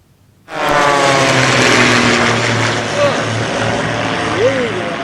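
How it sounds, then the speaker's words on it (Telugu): An aircraft engine suddenly roars in and holds a loud, steady drone with a propeller-like buzz, overhead and close, during rehearsal maneuvers for an air show in Amaravati. "నవ్యాంధ్రలో తొలిసారిగా జరుగుతున్న ఎయిర్ షోకు సన్నాహక విన్యాసాలివి"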